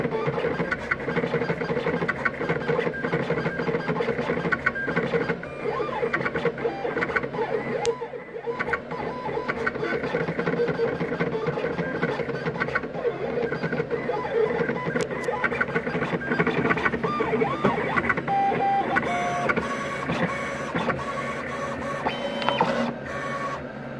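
A Roland CM-24 vinyl cutter cuts out a design. Its motor whirs and steps continuously, with shifting mechanical tones and short pauses, at moderate level over a long stretch.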